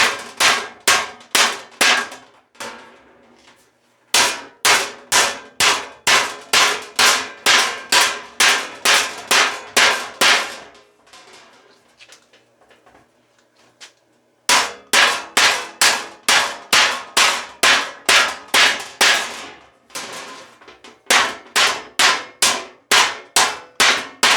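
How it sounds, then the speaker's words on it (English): Ball peen hammer beating sheet metal over a piece of C-channel for floor board and rocker panel repair, loud rapid bursts of ringing metallic clangs, with short pauses between runs of blows. "So it's got this piece of C-channel and a ball peen, and just beat the crap out of it."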